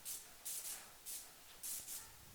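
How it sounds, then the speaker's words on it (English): Spray gun laying down lacquer on a handmade tabletop in a woodshop, four loud hissing bursts in quick succession with brief pauses between, no voices. "The only thing about spraying lacquer is it shuts down the shop completely."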